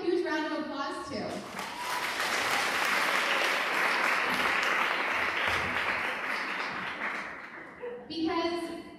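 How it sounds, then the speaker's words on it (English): An audience breaks into a long, loud round of applause for two honored guests at a talk, dense clapping sustained for several seconds and framed by brief speech at the start and end. "we'll just go ahead and give a huge round of applause to"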